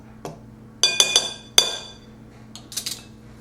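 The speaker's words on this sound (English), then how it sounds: "Then you can stir up the flour part a little bit without getting into the shortening" Flour and salt being stirred in a mixing bowl for an apple pie crust, giving a handful of sharp utensil clinks and taps against the bowl in quick irregular bursts, fairly close, with quiet pauses between.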